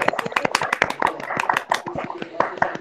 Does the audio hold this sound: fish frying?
no